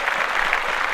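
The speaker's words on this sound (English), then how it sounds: "Let's clap that up." A steady burst of clapping from a small group during a sports podcast, continuous and even throughout with no voices over it.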